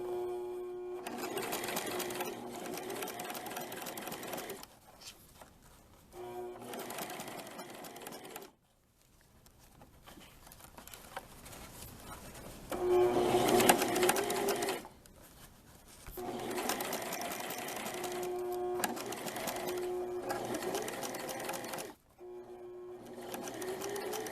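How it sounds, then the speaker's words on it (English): A sewing machine runs in several bursts of steady stitching while it sews bias tape onto the armholes of a baby dirndl, with short pauses between runs and no talking. "I'm going to sew on a little bit just to have double stitching there."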